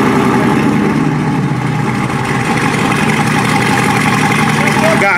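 A muscle car engine warm-starts and settles into a loud, steady rumbling idle close by, with a few other cars nearby and voices talking over it.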